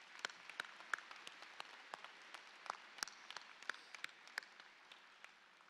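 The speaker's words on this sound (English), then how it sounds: "So let's give all of these folks a round of applause." Sparse applause from a commencement audience, a thin scattering of separate, distinct handclaps rather than a dense roar, quiet and spread across several seconds.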